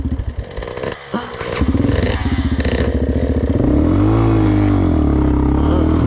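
A loud KTM SX 85 dirt bike engine revs up after a clatter, climbing and holding a rough, buzzing roar close by.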